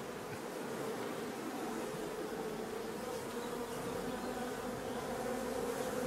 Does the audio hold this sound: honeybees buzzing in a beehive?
yes